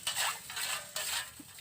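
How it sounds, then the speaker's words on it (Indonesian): Spoon scrapes and stirs as half a handful of salt is mixed into fermented goat feed, a few quick clinking swirls up close, short and alone. "Kita aduk dulu biar larut tercampur rata ya bos."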